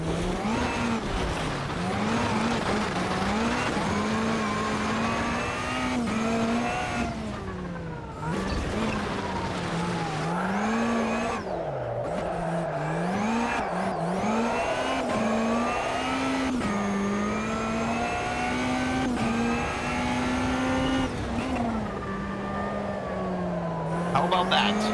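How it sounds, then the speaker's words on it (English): Racing car engines in the video game Automobilista 2 rallycross roar and rev continuously, pitch rising and falling through gear shifts, loud and close with no pauses. "Audio, or let's say sound, of the cars is just on point"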